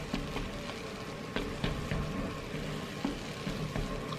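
Spicy fire ramen noodles cook in a pan with a continuous crackling sizzle, punctuated by soft repeated taps and stirring scrapes, moderately close and without talk.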